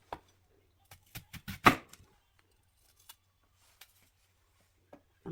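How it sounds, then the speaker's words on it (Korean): An onion being chopped with a knife on a cutting board, a burst of quick close knocks followed by a few scattered single cuts separated by short pauses, crisp in a quiet room. "야채를 썰어 놓겠습니다."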